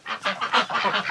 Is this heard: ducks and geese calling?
yes